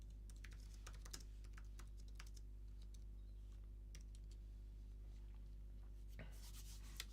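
Quiet, scattered key clicks from a computer keyboard come in uneven bursts, with a steady low hum underneath and a livelier flurry of keystrokes at the end.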